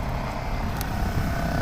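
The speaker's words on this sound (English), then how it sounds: "And I hear the compressor turn on." The air suspension compressor on a 2006 BMW 530xi 3.0L runs with a brief, steady, close buzzing hum.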